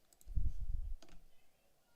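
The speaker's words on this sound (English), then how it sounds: "In the upper right-hand corner, we're going to click the Create button." A single sharp computer mouse click on a Create button in the Animoto web app, close and clear, following a few soft low thumps of the mouse being handled, then quiet.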